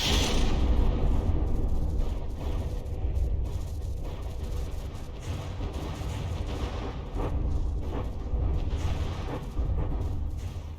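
Continuous loud rumbling turret gunfire and booming blasts in From the Depths during a frigate battle, dense and sustained with no pauses.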